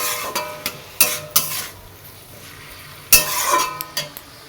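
Drumstick flower curry is stir-fried in a pan, with sharp scraping spatula strokes against the metal at irregular intervals over a soft, low sizzle close by.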